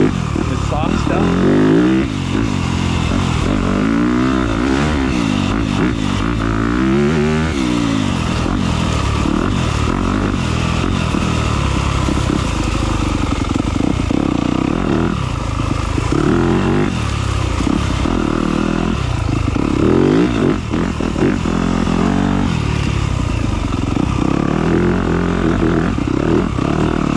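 2021 Yamaha YZ250F dirt bike engine revving while riding, a loud, continuous four-stroke drone with repeated throttle surges and gear changes, heard close up under a rider talking throughout.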